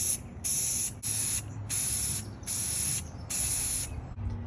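Aerosol spray paint applied in gold to a Harley 45 flathead motorcycle gas tank, six loud, even hissing bursts of about half a second each, separated by short pauses, close and with no talk.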